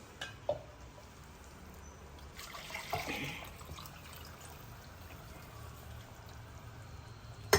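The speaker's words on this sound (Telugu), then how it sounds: "ఇప్పుడు చింతపండు గుజ్జులోకి మనం మంచిగా అన్ని నీళ్ళు పోసేస్తున్నాం" Quiet water is poured into a bowl of tamarind pulp, a soft splashing trickle rising midway, faint and close with no talking.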